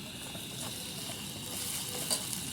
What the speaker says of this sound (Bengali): নুন হলুদ লঙ্কার গুঁড়ো জিরে গুঁড়ো ধনে গুঁড়ো সব রকমের গুঁড়ো আছে দিয়ে দিলাম ভালো করে কষে নিই